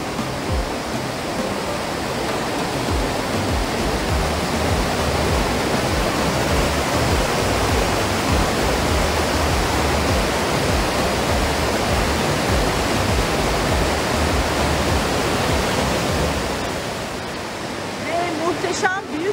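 Waterfall in Sapadere Canyon, Turkey, roaring as a loud, steady broadband rush of falling water that stays close and constant throughout, with no voices over it.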